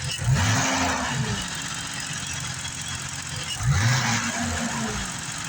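A 1988 BMW 535i e28 engine revs twice, rising and settling back, then holds a steady mid-range drone of about 2,000 RPM between the two revs.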